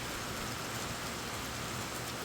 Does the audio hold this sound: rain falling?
yes